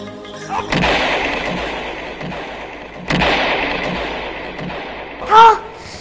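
Two sharp gunshots ring out with long booming echoes, followed by a brief louder burst near the end.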